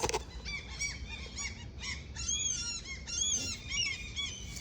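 Seagulls call near Castle Inverlochy in Scotland, a series of squealing, honking cries repeating at irregular intervals over faint background noise, fairly close.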